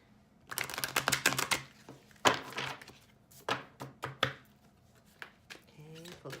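Cards of an Earth Magic oracle deck being shuffled by hand, a run of close, crisp riffling slaps and flicks in quick bursts, pausing and resuming, with a brief murmur of voice near the end.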